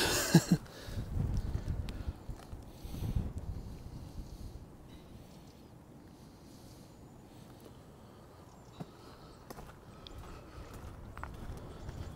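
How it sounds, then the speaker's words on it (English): Strong wind buffets the microphone in rough gusts at Sutton Staithe, Hickling Broad, loudest at first, then settling into a steady rushing roar with occasional knocks. "this wind is quite rough"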